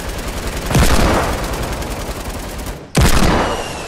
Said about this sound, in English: I think we're getting shot from the left